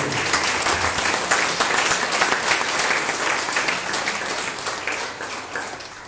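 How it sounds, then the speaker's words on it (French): A church congregation applauds together in a loud, sustained wash of many hands clapping, steady throughout before easing slightly at the end. "Applaudissez le Seigneur d'un peu."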